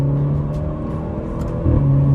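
An Alfa Romeo Giulia accelerating, steady engine drone that climbs in pitch and loudness near the end as the revs rise, close and alone without talk.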